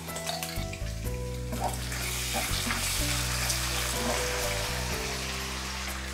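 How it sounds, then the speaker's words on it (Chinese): Minced pork stir-frying in hot oil with a spoonful of doubanjiang in a wok, a steady close sizzle with scraping stirs, set against a continuous low hum throughout. "把肉末炒至微微发黄，再来一勺豆瓣酱"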